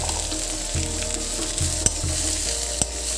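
Continuous sizzling and frying of fiddlehead fern (dhekia) with potato, turmeric and salt in a pan over low heat, with a few light stirring clicks and knocks over the steady hiss.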